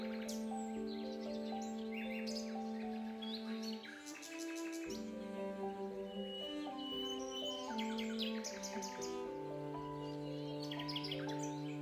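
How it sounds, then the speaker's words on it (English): Many birds chirp and sing together in a layered chorus, with steady tonal calls and rapid trills overlapping throughout. "These birds are known for their loud drumming and calls"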